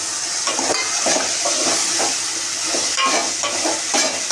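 Taro root and tomato pieces sizzle and fry steadily in a pan, with a continuous bright hiss and periodic scraping of a spoon as the mixture is stirred close up.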